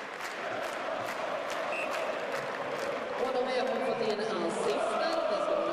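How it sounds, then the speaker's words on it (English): An ice hockey crowd at the Ericsson Globe, during a Djurgården versus Skellefteå playoff game, chants and claps in rhythm throughout, filling a large arena with sustained roar while a commentator's voice runs over it. "On their feet, chanting and clapping away."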